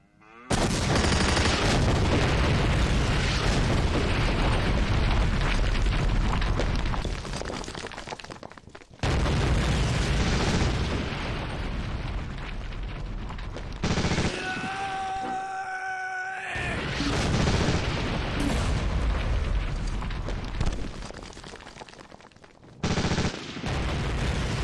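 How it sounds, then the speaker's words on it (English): Artillery barrage landing on tanks in a WWII video game set at Port-en-Bessin, heard as a long, loud, dense roar of blasts and gunfire with a brief lull and sharp cuts partway through. "Launch an arty to hopefully get some immobilizations on his tanks"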